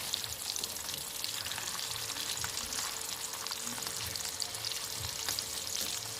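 Hilsa pieces fry lightly in a small amount of oil for an ilish with mustard seed dish, a steady close crackling sizzle that runs unbroken throughout with no voices.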